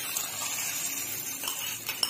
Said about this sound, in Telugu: ఇప్పుడు మనం పోపు వేసేసుకుంటున్నాం.